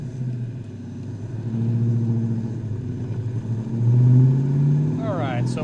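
A 1990 Ford Mustang GT Fox body with a 5.0-liter engine idles while warming up in the Texas heat, a low, steady rumble that swells slightly midway and again later.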